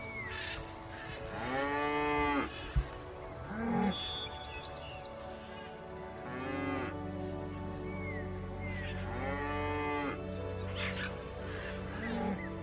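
A savanna cattle herd of bulls, cows and calves lows in long, deep moos, several overlapping calls rising and falling, close and loud over a low rumbling background.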